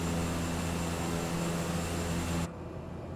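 Steady broadband drone of a Cessna 208B single-engine turboprop flying in Microsoft Flight Simulator over Norway, with tonal engine hum throughout that cuts off abruptly near the end, leaving quieter residual noise.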